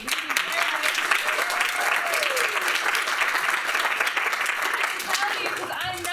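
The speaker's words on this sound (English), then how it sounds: "I would like another round of applause for the movie" Theatre audience applauding a new work at a festival: steady, dense clapping from a full house that holds for several seconds, with a voice or two briefly audible over it.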